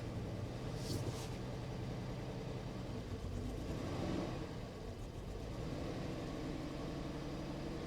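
A rebuilt car engine idling rough, a steady low rumble running throughout at a moderate distance, with no voices over it.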